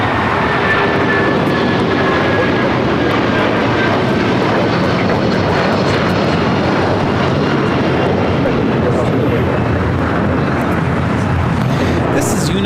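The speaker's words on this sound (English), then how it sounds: "This is United Airlines 2347 taking off to Chicago on the 757-300" A United Airlines Boeing 757-300 taking off at LAX, its engines a loud, sustained roar that fills the whole stretch without easing, close and dominant with no clear voices over it.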